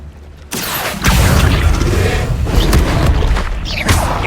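Accio summoning spell cast in the game Hogwarts Legacy: a sudden whooshing magical burst kicks in, swelling into a loud, dense rumbling surge with rising shimmering sweeps that carries on steadily to the end.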